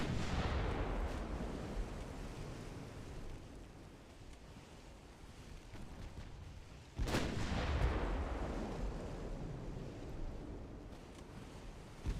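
Heavy battleship naval guns boom in the Ultimate Admiral Dreadnoughts video game, one sharp loud blast standing out over a constant wash of ocean surf and wind rumble.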